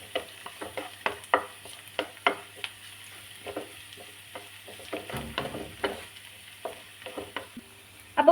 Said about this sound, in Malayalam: ഇത് ഇളക്കി നമുക്കൊരു ഗോൾഡൻ കളറാക്കാവേ.